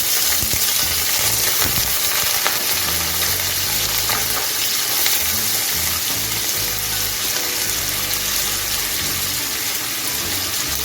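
Thinly sliced onions frying with cumin in hot oil for egg jhuri chochori, a steady loud sizzle with occasional stirring scrapes and no talking.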